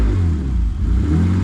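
A race car engine rumbles loudly and close with a deep, continuous growl and a slight dip in the middle of the burst.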